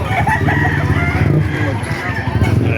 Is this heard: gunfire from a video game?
no